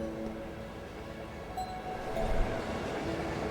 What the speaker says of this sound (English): The Mare Mainline Mixed Train via Heimdall Central Station.